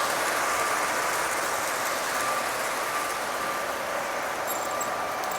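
A Polar Express model train runs along a layout with a snow village and bridge, giving a steady close whirring hum of motor and wheels with faint clicking on the track, continuous and without speech.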